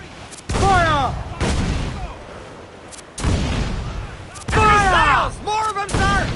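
Cannon fire booms in Assassin's Creed IV Black Flag during a naval battle, heavy shots landing in several bursts amid shouted crew voices and crashing debris, loud and close.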